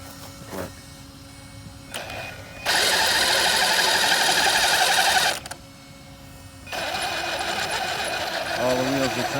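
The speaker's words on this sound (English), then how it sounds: "All the wheels are turning except for that one axle right here." A Traxxas Slash 4x4 RC truck with one axle's pin fallen out runs with its wheels spinning, giving a loud steady electric motor whine in two bursts separated by a quieter pause, close by, with faint handling noise between.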